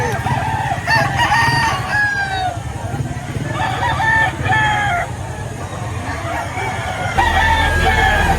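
Roosters crow repeatedly at a busy chicken market in Lipa, Batangas, amid loud steady background clamor and clucking, with people talking nearby.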